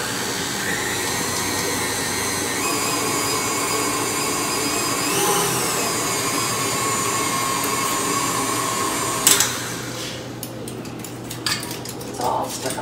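An electric mixer or whisk whirs loudly and steadily through a thick keto almond butter and cream cheese pie filling, then stops near the end, leaving scraping and clinking of utensils against the bowl.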